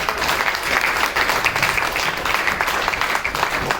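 Audience applause from a crowd at a network marketing seminar, a dense steady wash of many hands clapping that fills the whole stretch without a break.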